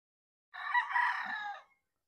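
A gamefowl rooster, a Roundhead over Miner Blue cross, gives a single close, clear crow lasting just over a second against silence.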